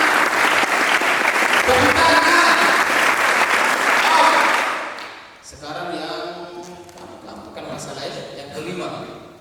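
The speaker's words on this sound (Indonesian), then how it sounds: "Tepuk tangan. Tepuk tangan." Applause from a classroom group fills the first half, loud and dense, then gives way to talk with scattered claps continuing faintly beneath the voices.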